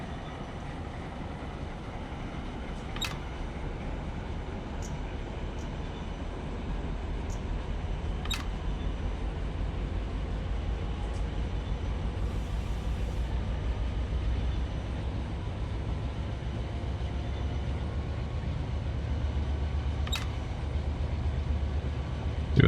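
A freight train rolls along the Needles Subdivision in the desert, a continuous low rumble of wheels and engines holding steady throughout, with a few faint sharp clicks and a brief burst of noise near the end.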